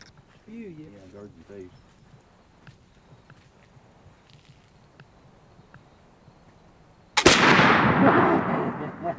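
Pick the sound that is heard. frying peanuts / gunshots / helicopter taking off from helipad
gunshots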